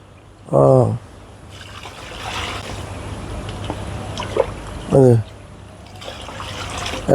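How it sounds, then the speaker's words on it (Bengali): Water splashes and trickles from a mug into a mix of corn being fermented as chicken feed, running continuously at close range, with two brief voice bursts over it. "দুই মাগ পানি দেন"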